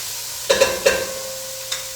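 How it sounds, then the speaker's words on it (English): Vegetables cooking for a veggie soup get stirred in a hot pan, giving a few close scraping strokes over a steady sizzle, with a faint hum underneath. "Let me give my veggies that are cooking a little stir so they don't burn."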